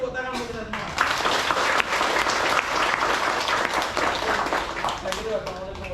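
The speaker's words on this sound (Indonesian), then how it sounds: "tepuk tangan untuk kita semua" A crowd claps steadily and loudly for several seconds, with voices heard briefly at the start and end.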